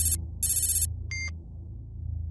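A telephone ringing in a scene from a romantic suspense film, two loud electronic trills followed by a shorter, fainter tone, over a low steady background hum, with no talk.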